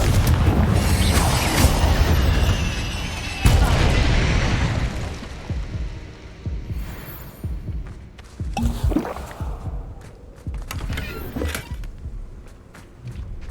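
Confringo blasting spell in Hogwarts Legacy, a sudden deep boom followed by rumbling debris and crackling, then several smaller bursts and pops that fade out irregularly.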